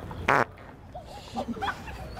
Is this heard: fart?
yes